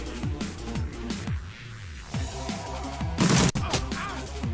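Gunshots in the turn-based role-playing game Shadowrun Returns: a rapid series of sharp, close shots, then a louder burst with a crash near the end, all over steady game music. There is no talking.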